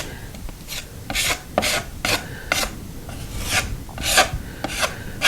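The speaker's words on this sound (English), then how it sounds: "you want to try to make it as smooth as you possibly can using your spackling tools" Spackling tool scraping spackle smooth across a wall after removing an old TV bracket, producing close, rhythmic rasping strokes roughly twice a second, each a short gritty swipe, with no talking.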